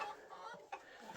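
Hens cluck softly in a brief, faint burst of a few clucks.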